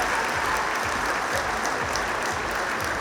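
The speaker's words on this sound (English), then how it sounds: "it's lovely to hear the crowd giving him a great reception now" Boxing crowd applauding a knocked-down fighter after a big knockout, a steady, dense roar of clapping from a large arena audience, continuous and loud with no talk.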